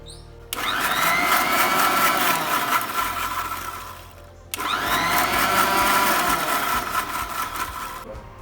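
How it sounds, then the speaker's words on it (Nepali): A kitchen mixer grinder blends fish curry gravy in two loud, steady whirring bursts of about four seconds each, with a short pause between them and no speech. "यो हल्का सेलाइसकेपछि यसलाई हामीले अर्को भाँडामा निकालेर मिक्सी गर्नेछौँ"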